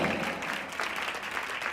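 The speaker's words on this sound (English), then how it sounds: "So give him a round of applause for the winners." Steady applause from an audience at a coaching academy awards ceremony, moderately loud and continuous for a short stretch with no voices on top.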